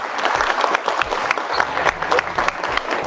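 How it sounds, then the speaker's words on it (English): Students at a school career day applaud, a dense burst of clapping that holds steady and loud throughout, with a few faint voices in the crowd. "Y'all clap it up for yourselves."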